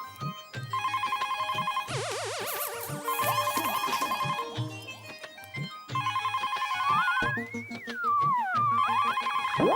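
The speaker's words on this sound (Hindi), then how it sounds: "मम्मी, फोन बज रहा है।" In a sitcom household, a telephone rings in repeated electronic bursts mixed with busy music-like tones and sweeping sounds, loud and close throughout.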